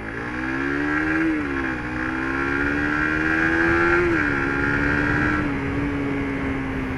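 A 2017 Suzuki GSX-R150 motorcycle accelerates hard on a test ride, its overbored engine revving high and climbing through the gears with brief dips at each shift, steady and close throughout.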